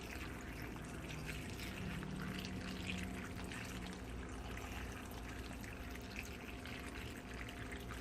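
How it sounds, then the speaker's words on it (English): Tap water pours steadily into a pot of peanuts, a continuous faint gushing stream with no pauses and no talk. "fill it so the water comes right up to where the peanuts are, so everything is nicely submerged"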